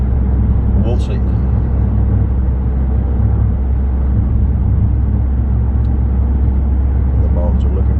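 Steady engine and road rumble heard from inside a car driving through the mountains, constant and loud throughout, with faint chirps at the top and a voice talking over it.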